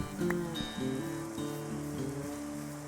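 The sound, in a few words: rain falling in Minecraft video game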